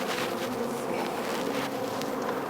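Honey bees buzz densely and continuously during an aggressive hive split, a close, steady swarm drone that fills the whole stretch without any voices.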